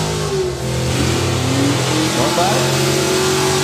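A drag racing car engine idles loud and steady at the start line while staging, holding a rough held rev against the throttle stop, with a voice talking over it.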